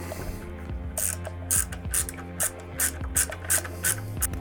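Bolts being tightened with a ratchet while a Denali Soundbomb horn is mounted on a Kawasaki Vulcan S motorcycle: quiet, evenly spaced clicking strokes repeating close up, about two or three per second.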